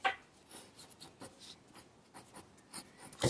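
A pencil sketches pineapple shapes on paper, heard as soft, close scratchy strokes in short irregular bursts with quiet gaps between them.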